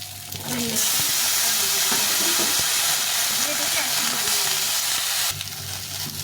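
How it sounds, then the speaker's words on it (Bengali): Drumsticks, eggplant and potatoes fry together in a pan, giving a loud, continuous sizzle and hiss that fills nearly the whole stretch before easing at the end, with faint stirring knocks beneath. "এই সজনে ডাটা বেগুন আলুগুলো ভেজে নিয়েছি"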